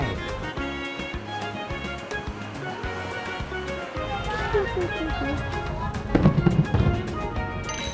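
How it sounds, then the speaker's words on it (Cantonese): Christmas fireworks pop and crackle in bursts over music and cheering voices, growing louder near the end. "睇完咁靚嘅煙花"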